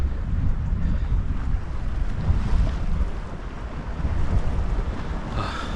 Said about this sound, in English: God, I wish this wind would calm down.